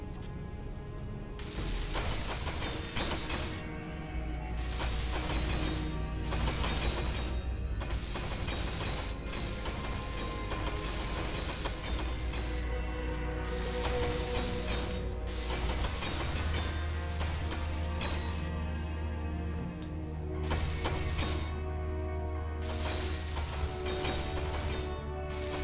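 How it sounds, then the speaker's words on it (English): Welding in the Space Engineers video game: repeated bursts of harsh, crackling mechanical grinding that start and stop over a steady low hum, moderately loud and with no talking. "Now let's weld this up."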